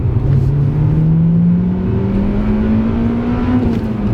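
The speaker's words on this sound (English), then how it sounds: "if you keep it high up the revs, it will just rev and rev and rev" A Honda Civic EP3 Type R engine revs steadily from inside the cabin, a loud, smooth rising drone that climbs in pitch for several seconds before easing off briefly.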